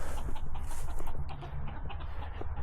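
Backyard chickens, including hens, cluck and murmur at night while waiting for a snack, a dense, continuous flock chatter close by.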